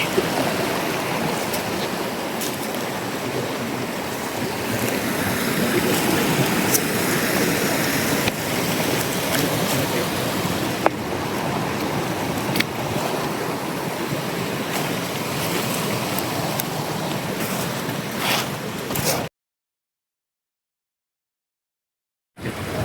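A cold, snowmelt-swollen stream crossing on the Pacific Crest Trail rushes loudly and steadily up close for about nineteen seconds, then cuts to silence.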